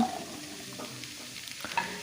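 Cut pumpkin, potato and brinjal fry in hot oil over fried tempering spices, giving a soft, steady sizzle with light stirring scrapes, brief and quiet with no talking.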